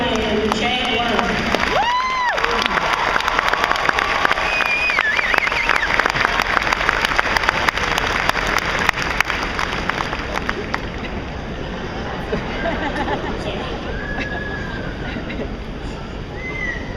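A graduation audience applauds and cheers for the 2011 valedictorian, a loud, sustained wash of clapping and crowd noise that fills the hall and gradually thins toward the end.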